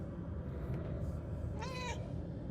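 A cat in the video game Murdered: Soul Suspect gives one short, rising meow near the end, heard over a steady bed of game ambience with no talking.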